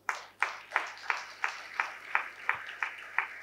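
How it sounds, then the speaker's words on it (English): Evenly spaced hand claps, about ten sharp beats at a steady rhythm, from an audience honouring two young leaders at a university ceremony; fairly faint and distant, with no talk over them. "They deserve thunderous applause."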